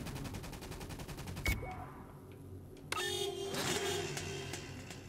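Machine gun fire in the Toy Soldiers video game, rapid regular bursts rattling for about a second and a half, then a sharp blast and a busier second volley with engine-like noise and other battle sounds.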